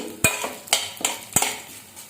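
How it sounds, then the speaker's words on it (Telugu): A spoon scrapes and clinks against a pan as coriander seeds, cumin and spices are stirred while dry-frying for a drumstick-leaf spice powder, giving four sharp close knocks over a faint background. "కొంచెం జీలకర్ర, ఇవన్నీ కలుపుకుంటూ మంచి కలర్ వచ్చే వరకు ఫ్రై చేసుకోండి."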